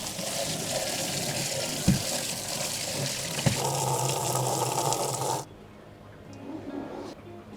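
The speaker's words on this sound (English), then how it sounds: "then we're going to fill them up with some tap water" Tap water pours steadily into plastic bins being set up for breeding shrimp, a broad continuous rush that stops abruptly near the end, leaving quiet room tone with faint handling noises.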